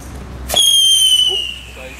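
Fireworks set off in Delft: one sharp, close bang followed by high, thin whistling tones that fade over about a second.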